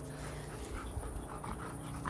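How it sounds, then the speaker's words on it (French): A former bite-work dog pants rapidly and steadily close by, with a faint whimper near the end and low background hum. "Vous savez que c'était un chien qui faisait du mordant, Olia?"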